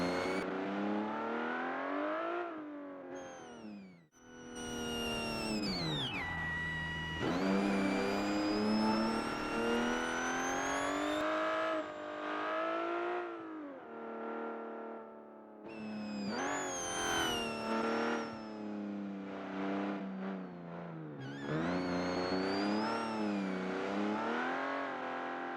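Vintage 1930s-style hillclimb car engine from the Automation video game, revving loudly through repeated gear changes, with rising pitch sweeps, brief dips between shifts and sustained high-rev pulls, heard alone.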